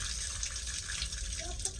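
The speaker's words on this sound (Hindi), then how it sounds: "पानी थोड़ा कम खोलो, पानी ज़्यादा खर्च नहीं करो। वो देखो फुल खोल दिया।" A tap opened fully runs in a steady, close gush while raw chicken is washed under it in a home kitchen, with a voice talking over the flow.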